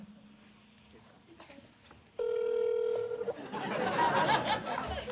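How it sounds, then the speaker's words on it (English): A telephone starts ringing partway through at a fan event, a loud steady electronic ring that follows a faint tone and light background chatter, then gives way to crowd noise. "I got a phone call here."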